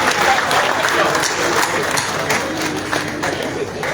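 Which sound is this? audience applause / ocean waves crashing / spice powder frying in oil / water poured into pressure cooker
audience applause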